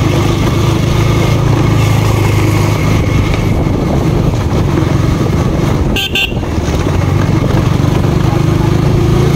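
A KTM Duke 200 BS6 motorcycle engine drones loudly and steadily throughout, with rough broken-road rumble and a brief horn toot partway through.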